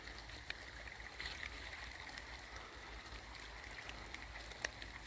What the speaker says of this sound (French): on est face à ce qui nous semble être un petit ruisseau.